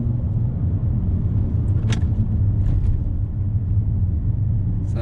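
A Volvo S60 T6 with an IPD exhaust and muffler delete, tuned by RICA and running on a dyno, gives a deep, steady engine rumble, loud and continuous, with a couple of brief higher clicks.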